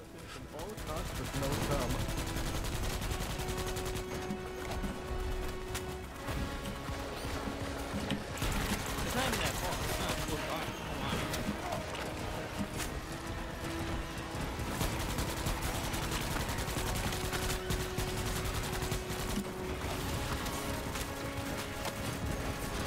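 Continuous video game gunfire, with bursts of automatic fire and clattering mechanisms running dense and loud for the whole stretch, layered under music and talk.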